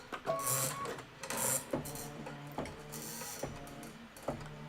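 Mechanical whirring and rhythmic clacking of an embroidery sewing machine stitching a quilting stitch, close and steady with regular repeated knocks and brief higher whines.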